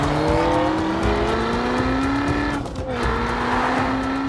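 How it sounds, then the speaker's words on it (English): A powerful Maserati Quattroporte V8 engine revs loudly with a rising, rasping tone, briefly dipping before climbing again, close and continuous with no talk. "I really think that the engine is the superstar here. It is noisy, fantastically noisy."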